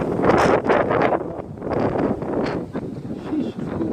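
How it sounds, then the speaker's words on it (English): Strong outdoor wind buffets the microphone in rough, loud low rumbling gusts that rise and fall continuously over several seconds during drone flying in extreme winds, with no clear speech. "I'm out here with the MJX X600 and some high wind"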